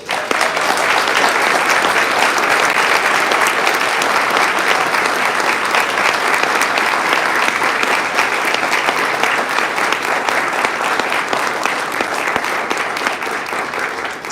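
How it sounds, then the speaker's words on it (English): Sustained audience applause at a law enforcement swearing-in ceremony, dense steady clapping from a large crowd that holds loud and even throughout before easing slightly at the end. "Can we get a round of applause?"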